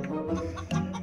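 Chickens cluck close by in a brief busy burst of overlapping throaty calls at a family home.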